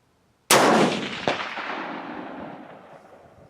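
A loud, sharp rifle shot from a Springfield 1903A4 cracks out alone, its blast rolling off in a long echoing tail, with a second sharper crack under a second later as the bullet rings a distant steel target at 100 yards.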